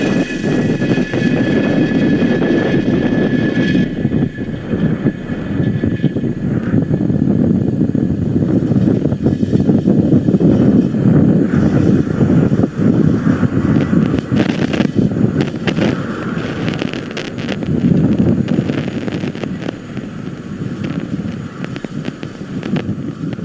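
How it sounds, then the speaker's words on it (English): Falcon 9 rocket engines roar through a continuous, loud, rumbling broadband blast during the climb after liftoff on the Space Development Agency Tranche 0 launch, with the engines throttling down ahead of Max Q. "Falcon 9 has throttled down its engines in preparation for Max Q"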